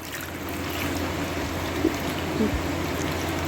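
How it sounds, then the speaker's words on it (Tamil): A steady trickle of water pours into a cooking pot, continuous and fairly close, with a couple of faint clinks partway through. "நம்ம ஒரு பாத்திரத்தில் தண்ணி ஊற்றிக்கலாம்"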